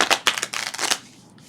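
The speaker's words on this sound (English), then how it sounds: "I've been sitting here shuffling cards" A deck of playing cards is shuffled in a brief, close, crisp flurry of papery riffles lasting about a second, then goes quiet.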